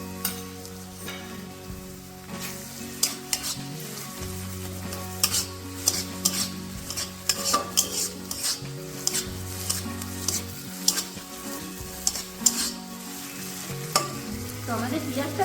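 Onions frying in oil with ginger and garlic paste for a Bengali tuna fish curry, a steady close sizzle with repeated spoon scrapes and stirring clatter against the pan throughout, no voices.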